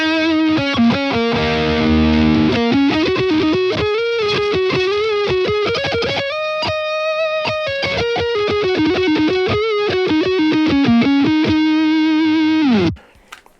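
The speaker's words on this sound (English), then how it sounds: "If you use all of them, you get a pretty sweet type of lead distortion." Distorted electric guitar lead played through the Aurora DSP Rhino amp-sim plugin, a fuzzy, pedal-like muff-style tone, with a loud continuous melodic line of sustained notes and quick runs that stops abruptly near the end.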